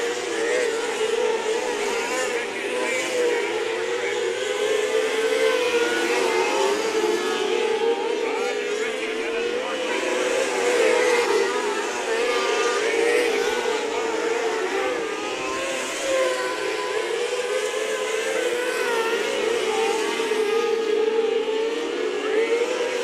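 HART micro sprint race cars howl around the US 24 Speedway oval at night, a steady loud engine drone that rises and falls as the pack circles, with a commentator talking over it throughout.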